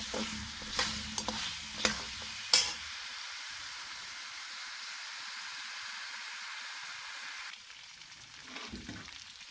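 Goat meat frying in hot oil while being stirred, a steady close sizzle with a few sharp scrapes and clatters near the start, settling into an even hiss that thins toward the end.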